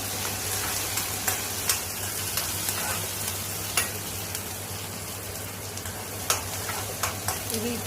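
Onion, green chilli and curry leaves fry in a pan for sabudana khichdi, a steady low sizzle with frequent light taps and scrapes of a stirring spoon.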